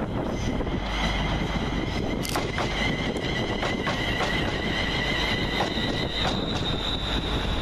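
A West Midlands Railway class 350 electric unit, 350-231, rolls through Aston station with a steady rumble of wheels on track, high squealing tones from the wheels and rails, and brief sharp clanks over joints.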